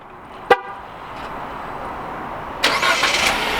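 A Jeep Wrangler Rubicon JL starts at the push of a button: a sharp click, a quiet pause, then the engine catches with a broadband rush that settles into a steady, fairly loud idle close by.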